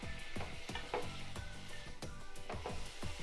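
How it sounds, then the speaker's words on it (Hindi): Spice powders and salt, including black salt, are stirred together in a bowl, with a steady rhythmic scraping and rubbing of about two strokes per second, close and quiet, with no talking. "सभी चीज़ों को मिक्स करेंगे।"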